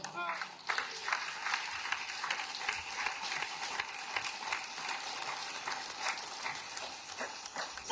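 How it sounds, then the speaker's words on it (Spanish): Church congregation applauding during a Spanish-language sermon, a dense, steady crowd clapping that swells in just after the start and carries on for several seconds. "Él se merece un aplauso."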